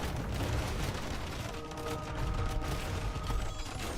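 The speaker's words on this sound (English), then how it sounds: "the cannon galleons are laying waste to the Aztec homeland" Cannon galleons fire in a massive Age of Empires naval battle against the Aztec homeland: a dense, continuous barrage of overlapping booms and blasts, loud and steady throughout with no pauses.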